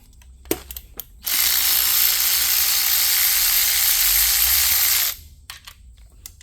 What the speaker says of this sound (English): So now for the intake manifold, you can start by removing the 10mm bolt.